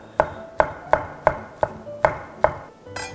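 A knife slices a rolled egg omelette into strips on a cutting board, about eight crisp even strokes in a steady rhythm, close and clear.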